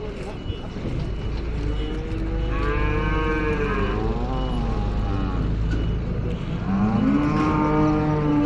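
Cattle moo repeatedly at a Friday cattle market, some tethered and some standing in vehicles, the long lowing calls loud and close over steady crowd noise, with people talking throughout.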